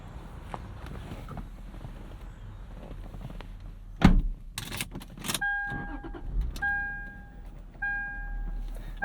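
A 2003 Lexus IS 300 with a five-speed manual starts up nearby after a door thud and footsteps, then the engine idles and revs with a steady hum and faint electronic chimes.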